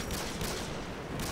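Modern Warfare 2 played on an Xbox One X: dense, continuous automatic gunfire, a loud, rapid run of overlapping shots with no talking.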